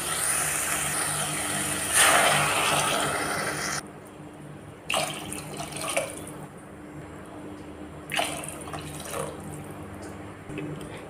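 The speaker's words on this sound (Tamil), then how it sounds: "அதுக்கு 3 கப்பு தண்ணி சேர்த்துக்கலாம்." Water runs and splashes into a cooking pot of rice for veg pulao in a steady broadband stream, with a couple of brief pouring bursts later and a low hum underneath.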